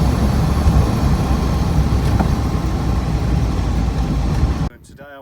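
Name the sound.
1967 MGB GT classic car engine driving in overdrive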